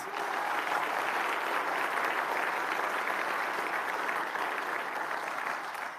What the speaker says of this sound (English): Could we give them one more round of applause?